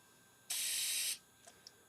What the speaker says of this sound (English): the Sotar 2020 airbrush, guys, is just fantastic